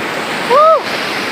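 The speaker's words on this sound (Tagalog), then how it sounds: "Grabe yung hagas ng tubig." A river rushes fast near Sumpit Bridge in Butig, Lanao del Sur, making a loud, steady broadband roar, briefly overlaid by a short voiced exclamation.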